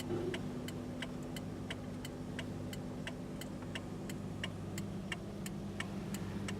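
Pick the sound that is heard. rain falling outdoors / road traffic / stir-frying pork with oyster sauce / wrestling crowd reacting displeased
road traffic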